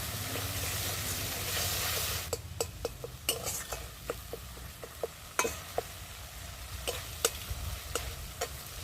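Spices, including chilli powder, sautéed in a pan for rohu fish in sesame paste: a steady sizzle at first, then a run of sharp spatula scrapes and clinks against the pan, fairly close, with no talking.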